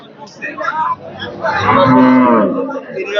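A cow moos loudly and close by at a busy rural cattle market, one long drawn-out low call swelling in the middle of the clip.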